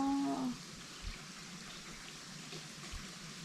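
Water runs steadily over rocks at a small waterfall near Phu Ruea in Thailand, a soft continuous wash at moderate distance, briefly overlapped by a faint tonal sound at the start.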